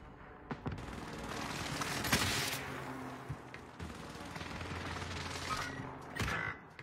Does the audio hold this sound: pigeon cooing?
no